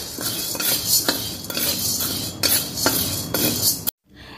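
Sago pearls roasting dry in a pan, stirred steadily with a utensil, giving repeated scraping and light clinking strokes up close for about four seconds before stopping abruptly.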